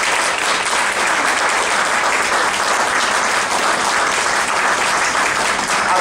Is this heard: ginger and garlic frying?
no